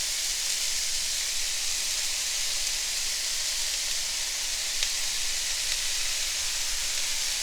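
A whole large onion cooking in a pan of reheated sauce for pasta Bolognese gives a steady, even hiss and sizzle, constant and close throughout with no other sounds.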